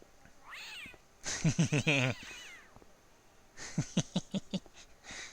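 Angry cat in the point-and-click adventure game Broken Sword, giving two bursts of loud, close, drawn-out hostile meows and yowls separated by a brief lull, with no talk over it.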